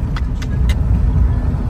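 A taxi drives through Hong Kong traffic at night, giving a loud, steady low rumble of road and engine noise with a few faint clicks. No one speaks.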